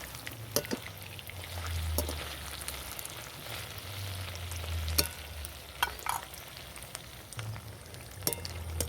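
Chips made from leftover rice deep fry in hot oil, giving a steady soft sizzle broken by sharp clicks and spatters as the pieces are stirred, close up and with no voices.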